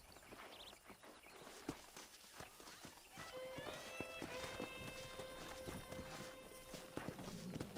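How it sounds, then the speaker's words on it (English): Wild horses' hooves clop across open ground in the Red Dead Redemption game, an irregular run of muffled hoofbeats under steady ambient game music, with a tonal horse-like call drawn out in the second half. "there's a pack of wild horses nearby"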